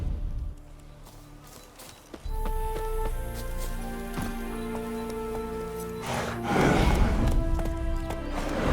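Horse hooves pound in a steady galloping rhythm in The Witcher 3: Wild Hunt, Hearts of Stone, moderately loud under sustained game music tones.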